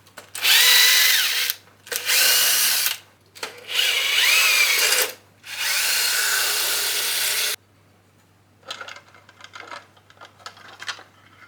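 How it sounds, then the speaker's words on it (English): A power drill backs screws out of the side panel of an Alpha-6 electric skateboard in four long, loud whirring bursts separated by short pauses, followed by a few fainter clicks and rattles. "we actually have to undo this one screw here, this one screw here, that one screw there, and that one screw there"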